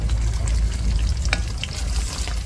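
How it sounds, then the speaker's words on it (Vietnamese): Salted lemongrass fish frying in a pan gives a steady, close, crackling sizzle of hot oil throughout, with a few sharper pops along the way. "Cá muối xả chiên cũng được nè,"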